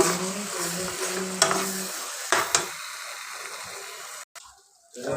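Spinach garlic chutney stirs and fries in oil in a pan, a steady loud sizzle with a few scraping stir strokes, then a sudden stop and a quieter, fading hiss as the gas is turned off.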